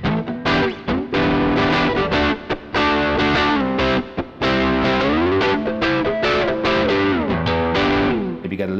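An electric guitar runs through a Tech 21 RK5 Richie Kotzen Flyrig set to heavy distortion, playing loud, saturated chords and riffs in quick bursts with brief gaps, close and without talk.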